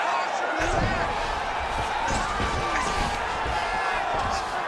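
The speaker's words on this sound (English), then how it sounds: "huge pop from the crowd as the fighters get back up to their feet" Arena crowd in EA Sports UFC 5 roars and cheers steadily as the fighters rise from the mat, a dense sustained swell of noise with a commentator talking over it.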